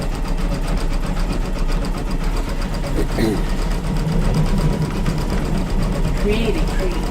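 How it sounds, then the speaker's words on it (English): An embroidery sewing machine stitches a 3D lace headband, giving a steady rapid mechanical whirring and fine rhythmic clatter at moderate level, continuous throughout the clip. "let's come and have a look and see how our sewing's going."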